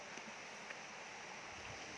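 Steady rushing water from a waterfall at Dabarkhola in Cuttack's Badamba area, a constant broadband roar heard from a moderate distance with no voices.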